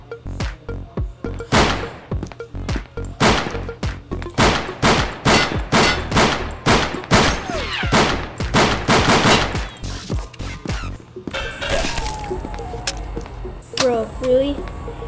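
Rapid bursts of video game gunfire from SCP Anomaly Breach, loud and close, with repeated sharp shots running through most of the stretch before tapering into scattered game noises near the end.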